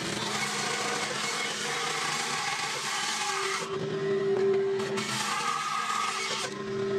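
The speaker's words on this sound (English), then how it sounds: "Let's go to the bandsaw, make it a little bit more circular" A bandsaw trims a wood blank into a rough circle before it goes on the lathe, giving a steady buzzing whine with cutting noise that drops briefly and resumes partway through, with no speech.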